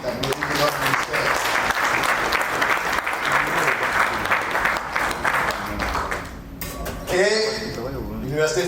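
Loud, dense audience applause at a plant health convening in a hotel in Abidjan, sustained for several seconds for a professor and the ministry, then fading as a voice speaks over the tail.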